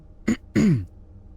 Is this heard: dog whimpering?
no